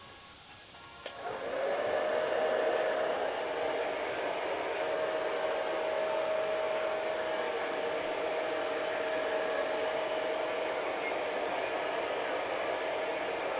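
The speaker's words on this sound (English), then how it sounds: "you kind of hair dry it up so you've already kind of started styling it. Okay, so hair dry with a nozzle" A hair dryer fitted with a nozzle blows steadily while styling hair, starting with a brief lower hiss before ramping to a loud, constant airy roar with a faint whine held throughout.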